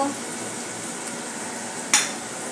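Mini potatoes roast in a pan over a low flame, giving a soft, steady low sizzle with a single clink of utensil against the pan near the end.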